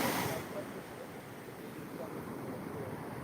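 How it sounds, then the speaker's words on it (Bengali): Sea waves roll and wash continuously at a steady, faint level, a diffuse surf rush with a louder burst at the very start and wind noise underneath. "মারাত্মক লেভেলের ঢেউ উঠছে আজকে বন্ধুরা"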